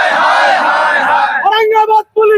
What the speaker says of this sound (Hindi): नारे पे नारे लग रहे हैं कि बिहार पुलिस मुर्दाबाद